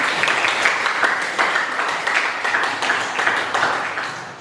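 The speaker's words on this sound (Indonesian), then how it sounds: "Tepuk tangan dulu untuk Yudi" Students in a culinary class clap for a classmate, a continuous moderate patter of many hands with rhythmic swells, no talking over it.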